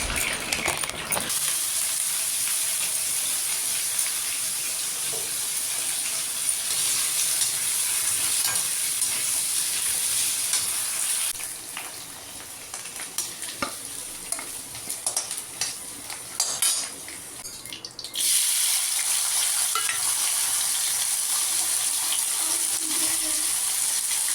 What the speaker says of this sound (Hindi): फिर मैं डालूँगी इसमें आलू को फ्राई करूँगी